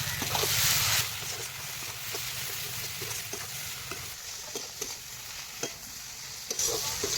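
Lote fish frying with ground black pepper and cumin in a pan, giving a steady sizzle with intermittent scraping stirs, close and fairly quiet, with no talking.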